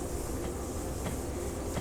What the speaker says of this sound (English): There's something along here leaking air like crazy.